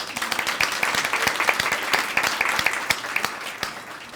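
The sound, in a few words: applause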